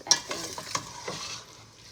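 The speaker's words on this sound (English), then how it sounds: "while we are frying this on low heat" Food sizzles softly in a pan with a few light clinks and stirring scrapes, quiet and close, no voices.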